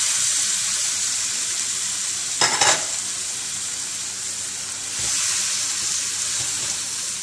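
Fish and vegetable filling frying in a pan, a loud continuous hiss of sizzling with a brief burst of stirring and scraping partway through and another surge near the end.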